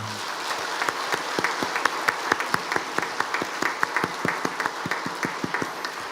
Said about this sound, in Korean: 우리 축복하는 어떤 그런 마음으로 우리 크게 한번 박수 한번 칩시다